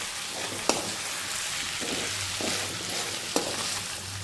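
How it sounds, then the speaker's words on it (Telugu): Chicken fry sizzling steadily in a pan while being stirred, with a constant crackling hiss and a couple of sharp scraping knocks from the spoon against the pan. No one talks. "మధ్య మధ్యలో ఇలా తిప్పుతూనే ఉండాలి."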